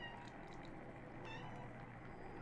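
A cat named Snuffles gives a faint meow indoors, brief and soft against a quiet background hum.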